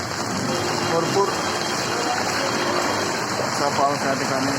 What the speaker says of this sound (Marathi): असा पाऊस या ठिकाणी लागलेला आहे.